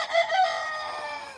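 A backyard rooster crows nearby, a single loud, drawn-out call that rises and then trails off, with no talking over it.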